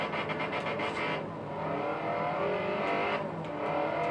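An AE86 drift car in a video game slides sideways with a steady high engine whine and tire hiss that dips briefly and swells again, loud and continuous, with no voices.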